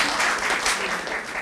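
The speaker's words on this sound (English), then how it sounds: "I appreciate the applause." Brief, even applause fills a public meeting room, a steady wash of clapping with no voices.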